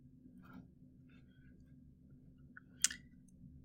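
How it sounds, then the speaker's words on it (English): A single sharp computer mouse click, close and crisp, preceded by a few faint soft clicks and movements over a quiet low background hum. "So I'm going to click there."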